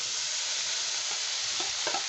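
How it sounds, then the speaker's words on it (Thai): Loud, dense sizzling as chicken and spice paste for Korat-style chicken coconut curry are stir-fried in a hot pot, with a few scraping stirs near the end. "เอาลงไปผัดเลยค่ะ"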